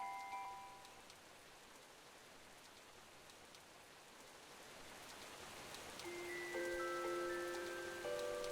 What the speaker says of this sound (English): The rain that fell upon this city was cold and clear.